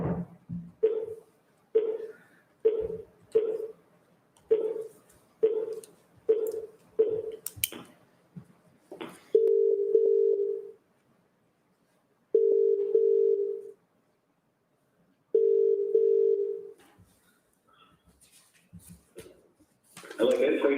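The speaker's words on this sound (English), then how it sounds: "I just need to dial in a member of the public." Telephone keypad tones beep in a quick regular series, then three long steady dial-tone bursts separated by silences while a caller is dialed in during a council meeting, with a brief burst of noise at the end.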